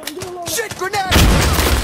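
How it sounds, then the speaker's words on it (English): A grenade blast in a first-person shooter game erupts as a loud, broad roar that follows a shouted voice and keeps rumbling with heavy low-end noise to the end. "Shit, grenade!"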